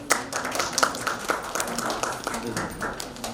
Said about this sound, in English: Can we give a great round of applause, please?